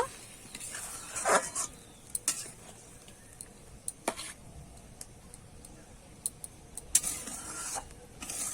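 Milk and cashew paste stirred in a kadai (wok): sparse, soft scrapes and light metallic clinks come in short bursts over a quiet kitchen background, with no talking.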